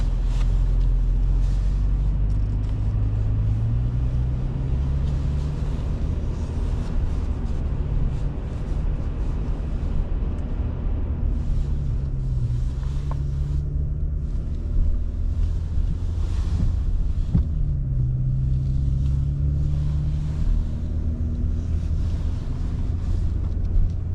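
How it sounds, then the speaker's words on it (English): Cabin of a 3rd gen Nissan Frontier with a new aftermarket exhaust, a continuous low engine drone under road and wind noise, with the exhaust tone rising and falling as the truck accelerates and shifts. "we're gonna go for a ride along with the new exhaust and get a good ride on so you can see what it sounds like from inside."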